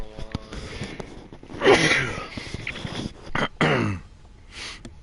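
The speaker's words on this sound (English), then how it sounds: "Here's a sneeze." A sneeze bursts out amid the sounds of a superhero online video game, with noisy game effects, a sniff and a second burst nearby.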